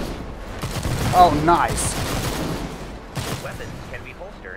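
Gunfire from the VR video game Stormland, a few sharp shots and bursts in quick succession mixed with game effects, with someone talking over them.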